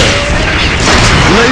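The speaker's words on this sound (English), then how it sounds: "Heavy machine gun." Heavy machine gun fire in the mobile game Metal Slug: Commander, a dense, loud continuous barrage of bursts and booms layered with game effects, with no gaps across the short stretch.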